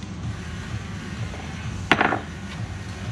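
A hammer strikes a chisel set against a worn wheel bearing on a 1996 Toyota Tacoma truck, a single sharp metallic clank with brief ringing over faint background noise.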